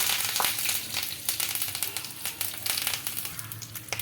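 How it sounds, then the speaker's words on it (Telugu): Spices and curry leaves for a ragi upma tempering hit hot oil and sizzle, a close, dense hiss with quick crackling pops that runs on without pause. "ఆయిల్ అయితే హీట్ అయిందండి పోపుకి అలాగే పోపు దినుసులు అయితే వేసుకున్నా అందులోకి కరివేపాకు"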